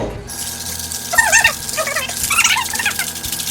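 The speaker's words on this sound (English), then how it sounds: "so now we're going to shake it up nice and neat" A bourbon cocktail shaken with ice in a cocktail shaker, heard as a rhythmic, rattling slosh that starts after a quiet moment and keeps a steady back-and-forth beat, fairly close and loud.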